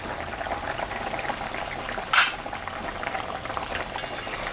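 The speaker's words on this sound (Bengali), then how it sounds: "ঝোলটা ফুটে গেছে" Rohu fish curry broth with eggplant bubbling in a pot on the stove, a steady low simmering hiss broken by a brief clatter partway through.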